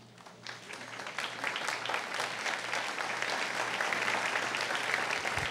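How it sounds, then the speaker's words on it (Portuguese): A church congregation at a Quadrangular service claps steadily together in worship, a dense, sustained wash of applause that builds slightly and holds for several seconds with no talking over it. "Você pode se assentar, aplaudir o nome de Jesus?"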